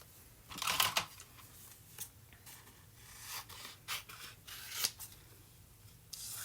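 Scissors cut a printed thermal label in several short crisp snips and rustles, close and fairly quiet, with no talk.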